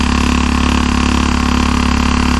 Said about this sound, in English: I am pushing it up a little bit on the revs.